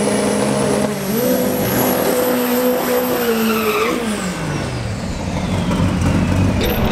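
A Camaro drag car at a no-prep drag racing event, its engine roaring loud and close with rising and falling revs, then launching and fading away, with some tire squeal.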